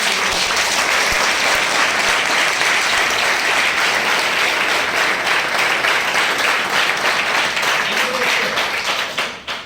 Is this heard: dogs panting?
no